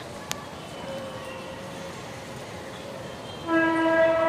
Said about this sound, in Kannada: ರೈಲ್ ರೈಲ್ ಹೋಗ್ತಾ ಇದೆ ಅಲ್ಲಿ ಅಲ್ಲಿ ಅಲ್ಲಿ ಚಿನ್ನ ರೈಲು ಅಲ್ಲಿ ಹೋಗ್ತಾ ಇತ್ತು